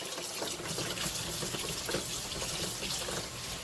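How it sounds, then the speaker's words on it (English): Cool tap water runs steadily from a kitchen faucet over cow feet in a sink, a continuous splashing hiss close by with no pauses. "Running the cow feet now under some cool water so it can cool off."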